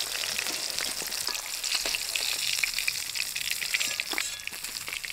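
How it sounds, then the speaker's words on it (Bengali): Potatoes frying in oil left over from frying hilsa fish, a continuous bright crackling sizzle with scattered pops, close and steady, no one speaking. "মাছ ভাজা তেলের মধ্যে আলু ভাজে নেব"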